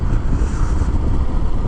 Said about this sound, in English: Wind is blowing